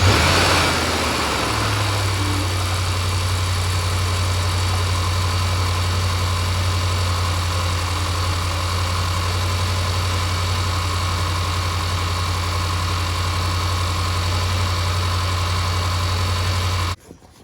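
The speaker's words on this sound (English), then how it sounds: "Here's the video how the fan behaves when the car cold and it start" A 2012 Range Rover Sport idles with the AC on and its radiator fan running, a loud steady whir and engine hum holding constant after a brief rise at the start, then cutting off at the end.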